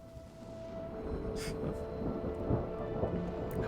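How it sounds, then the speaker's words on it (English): Rain pours steadily with low rolling thunder rumbling through it, a broad continuous wash of weather in the fantasy management game Mind Over Magic, with a faint voice underneath. "Oh, there's the rain."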